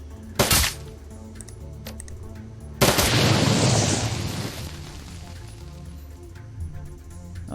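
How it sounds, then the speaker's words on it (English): Gunfire in the video game Shadowrun: Dragonfall: a sharp early shot, then a heavy booming blast with a long rumbling decay over low background music. "Alright, Blitz, take aim, fire. Glory, just shoot it."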